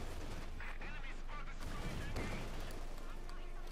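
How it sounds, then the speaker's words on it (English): Company of Heroes 2 battle sounds as an anti-tank grenade rifle fires at a Panzer IV, sharp gunshot cracks and blasts within steady combat noise, mixed under ongoing commentary. "We got anti-tank grenade rifle going off in the Panzer IV"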